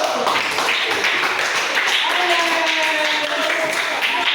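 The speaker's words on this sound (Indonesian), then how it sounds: "Oke, tepuk tangan dulu." Children clap their hands together in a classroom, a dense, steady patter of many small palms filling the room, with a few voices and faint tones running underneath.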